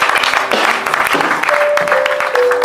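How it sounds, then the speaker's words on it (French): A church congregation applauds loudly and continuously, a dense crowd of clapping hands filling the room, with a sustained tone and scattered voices audible beneath the applause. "On acclame le Seigneur très fort pour ce temps."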